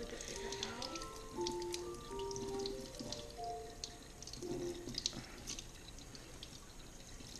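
Tap water running at a kitchen sink while a tuna steak is rinsed, a soft steady trickle with small drips and splashes, with people talking throughout.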